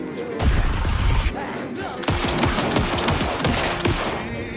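Rapid bursts of gunfire from shooting an enemy in the video game Alan Wake 2, loud and close, with a dense volley of repeated shots after an earlier heavy thud.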